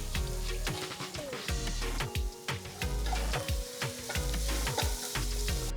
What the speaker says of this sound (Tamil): ஹை ஃப்ளேமில் 2 நிமிஷத்துக்கு ஸ்டர் ஃப்ரை பண்ணுங்க.